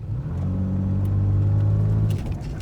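A white 2004 Nissan Xterra 4x4 pulls off in four-wheel high, its mid-pitched engine rising steadily as it accelerates for about two seconds, close and loud, then easing off.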